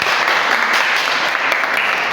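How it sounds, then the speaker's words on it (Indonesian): A classroom full of students claps steadily for a classmate who just finished a presentation, dense even applause filling the room for a couple of seconds with no talking over it. "tepuk tangan buat teman kita"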